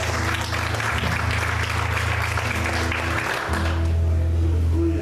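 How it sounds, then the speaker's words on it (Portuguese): A church congregation applauds during a Portuguese-language sermon, a steady wash of many hands clapping over a low sustained instrumental drone, continuous and fairly loud throughout. "Você pode aplaudir e exaltar o Senhor por isso."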